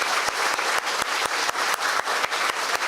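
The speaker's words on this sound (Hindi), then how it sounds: "क्या हम सब उसके लिए एक जोरदार ताली बजा सकते हैं?" A church congregation claps in loud, even rhythm, the claps landing in a regular beat across the whole stretch.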